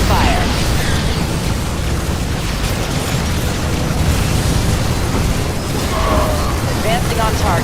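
StarCraft II Nova Covert Ops battle sounds of units firing: a dense, continuous roar of explosions and booming weapon fire, loud and sustained throughout, with voices faintly present.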